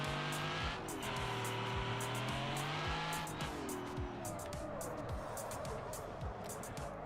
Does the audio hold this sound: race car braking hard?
yes